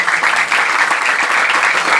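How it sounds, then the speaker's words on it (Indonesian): A crowd at a Maulid Nabi religious gathering applauds the PAM youth, steady dense clapping filling the whole stretch at full volume with no voice over it. "Tepuk tangan buat anak PAM."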